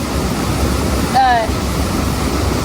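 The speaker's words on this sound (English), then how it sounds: "Now to filter water. Filtering it into my Nalgene bottle" Water is filtered into a Nalgene bottle during a hike on the Lake Chelan Lake Shore Trail. It makes a steady, rushing trickle with one brief squeaky chirp partway through.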